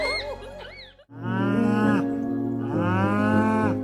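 A distressed cow calls for her calf, which was taken away with severe pneumonia. After a brief earlier sound, two long, loud, drawn-out moos come one after the other, close to the microphone.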